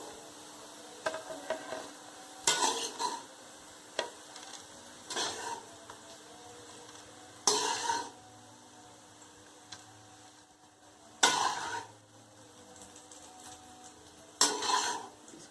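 Bitter gourd (karela) slices fry in a pan with a low steady sizzle, broken by several loud scraping bursts as a spoon stirs and turns them, roughly every two to three seconds.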